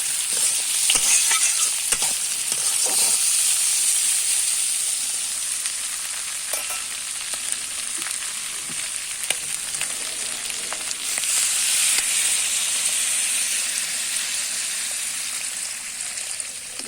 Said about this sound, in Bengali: উচ্ছে ভাজা হচ্ছে।